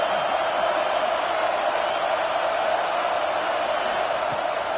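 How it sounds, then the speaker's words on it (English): A large college football stadium crowd roars continuously during a defensive play, a dense wall of cheering and noise that stays loud throughout. "Listen to this crowd just shaking the girders of this place, trying to help their defense."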